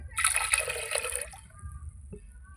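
Water pours into a pressure cooker holding washed dal, a bright splashing rush for about a second that then fades to a faint trickle, close by with no talking.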